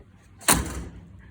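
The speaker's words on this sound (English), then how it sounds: "We're gonna give her a good slam." A Citroen C3 car door slams shut once, a single sharp, close thud with a brief rattling decay afterward.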